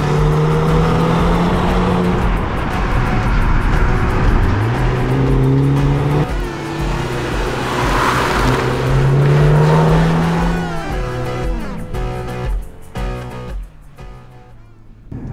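A 2022 BMW 235i Gran Coupe with all-wheel drive accelerates hard on the road, its engine note rising and falling through repeated gear changes. The engine stays loud and close throughout, with no speech.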